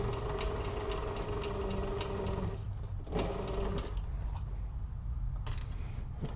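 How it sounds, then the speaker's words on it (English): A sewing machine stitches around the top of a fabric toiletry kit with handles, running in a steady rhythmic hum with brief pauses and restarts, moderately quiet and close. "I'm just sewing around just like we did on the other, the bottom piece, but now we're on the top and we have the handles to work around"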